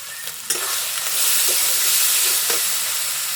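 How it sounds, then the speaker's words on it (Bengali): Ground cumin and chili powder hitting hot oil in a pan for a Bengali fish curry with potato, pointed gourd and okra, a steady loud sizzle with stirring scrapes, no voices. "জিরা গুঁড়া সব একসাথে মিক্স করে রেখেছি, দিয়ে দিব। লঙ্কার গুঁড়া"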